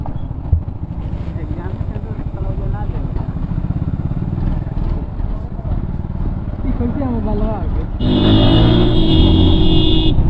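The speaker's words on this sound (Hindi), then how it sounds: "क्या ही गाड़ी बात करता है, देखो क्या ना आवाज" A motorcycle engine revs loudly and continuously in a narrow lane, rough and close, swelling and becoming louder toward the end.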